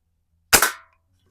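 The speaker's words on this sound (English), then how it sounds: "starting to shoot through the open spots in the can" A single sharp crack from an 1892 Markham King BB gun as it fires at a can, a close, loud double-edged pop that dies away quickly into silence.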